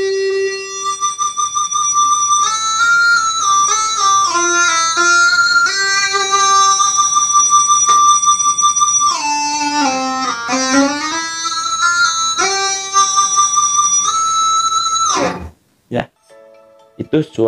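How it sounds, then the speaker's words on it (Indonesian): Schecter electric guitar with a sustainer in harmonic mode, notes held and blooming into bright singing harmonics that slide between pitches, steady and loud before cutting off abruptly near the end, with a few short plucks after. "Itu suara sustainernya."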